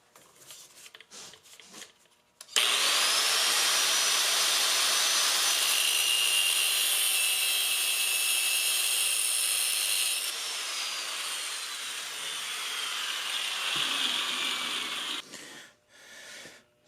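Angle grinder working a copper knife handle, a loud, sustained high-pitched grinding whine that starts abruptly, holds steady for about twelve seconds, then eases and stops, with brief clatter before and after.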